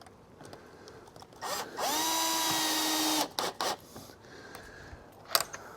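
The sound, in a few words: power drill driving hex head roofing screws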